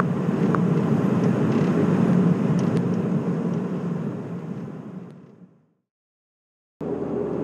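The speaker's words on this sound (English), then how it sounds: "Traffic's no different to it is any other day." Road traffic passes on a motorway, a steady broad rumble that swells and then fades out to silence before resuming abruptly near the end.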